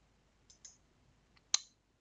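A few sharp, faint computer mouse clicks in a quiet room: two light taps close together, then a single louder click a moment later, with no voices.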